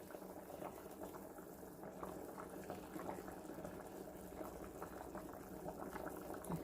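Small pieces of food boil in a pot of water, giving a steady, quiet bubbling and gurgling with soft popping throughout.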